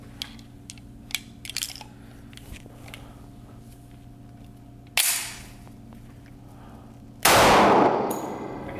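A 185-grain 10mm Extreme Penetrator round fired at a body armor plate during a torture test, with two sharp loud reports and metallic impacts, the last one booming and ringing out, after some faint clicks.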